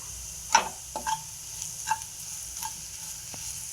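Beetroot palya is stirred in a pan, with soft scraping sweeps and a few sharp clicks of the spoon against the metal over a faint, steady sizzle.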